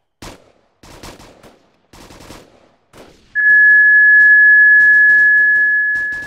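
Gunfire during squad live-fire training: a handful of loud, sharp shots and short bursts at close range, followed by a steady high ringing tone that lingers to the end.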